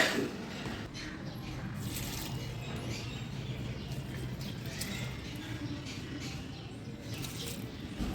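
Water poured from a container onto hibiscus and other garden plants, a steady soft splashing and trickling that runs the whole time at close range, with faint background noise and no talk.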